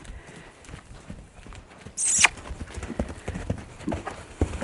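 A big horse canters around a tiny round yard, hooves thudding in a loose rhythmic beat on the ground, with a short bright burst partway through and no clear talk over it.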